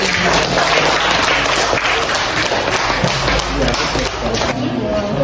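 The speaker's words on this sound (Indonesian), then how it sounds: "Aplaus dulu untuk kelompok" Applause for a group presenting in a classroom: dense, steady clapping that runs unbroken for about five seconds, loud and close.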